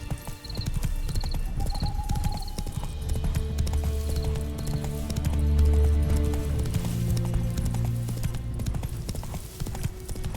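Roach the horse gallops in Witcher 3, steady rapid hoofbeats pounding close and loud over game music, with a brief whinny early on.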